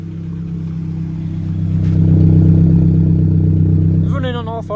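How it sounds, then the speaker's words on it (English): Engine of a Ford Focus Mk2.5 idling smoothly after a misfire fix with a new coil pack and ignition leads, a steady close low hum that swells slightly, with a voice speaking briefly near the end. "It's running on all 4 again."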